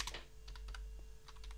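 Keys clack on a computer keyboard as a Linux install command is typed on Debian 12, a quick run of light taps in two short bursts, close and fairly quiet, with no voice.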